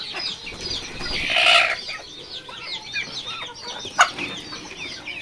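Chickens at a poultry farm stocking local hens, layers and Fayoumi birds, clucking and calling steadily at close range, with a louder burst of squawking early on, a sharp call near the end and a brief flap of wings.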